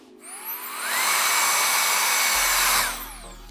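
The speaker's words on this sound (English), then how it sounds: "Blow dry down the dimension" A hair dryer blow-drying hair switches on and rises to a loud, steady whoosh, holds for a couple of seconds, then tapers off, with no voices.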